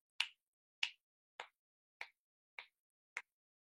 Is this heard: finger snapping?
yes